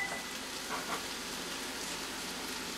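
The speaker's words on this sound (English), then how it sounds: "You can hear this stuff cooking already." Bison chili with rinsed white and yellow corn and tomato sauce sizzles in a very hot pan, a steady close frying crackle and hiss running unbroken with no talk over it.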